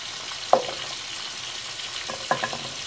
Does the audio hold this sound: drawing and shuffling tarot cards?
no